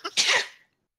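A single sharp sneeze from a person, close and fairly loud: a quick intake followed by a burst lasting about half a second, then silence.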